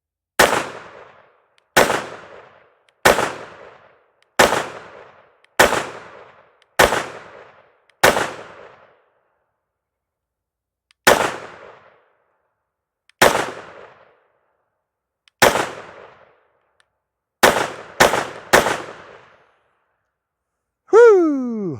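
Series of sharp gunshots from a .22 WIN Mag rimfire firearm, about a dozen loud cracks, some in quick pairs and others spaced a few seconds apart, each trailing off into a short decay, followed by a brief whistle-like tone at the end.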